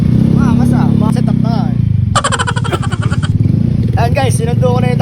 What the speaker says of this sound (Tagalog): Ganda ng motor ah.